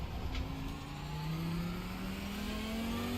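A race car engine in iRacing holds a steady high drone, pitch slowly climbing as the car slides into oversteer, loud and close with no talk over it.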